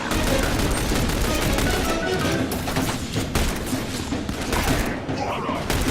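Gunfire from the video game The Bureau: XCOM Declassified, a dense continuous barrage of loud shots and bursts filling the whole clip, with game voices shouting over the battle.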